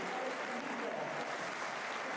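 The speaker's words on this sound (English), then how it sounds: "Generous applause for the players departing." A football stadium crowd gives a steady wash of applause as players leave the pitch during an Oxford United versus Sunderland match. The clapping stays dense and even from start to finish.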